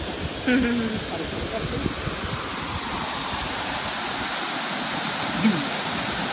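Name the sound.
water rushing at a dam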